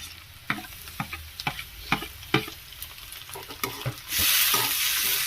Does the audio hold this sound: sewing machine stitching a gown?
no